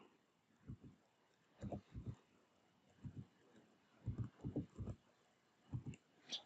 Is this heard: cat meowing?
no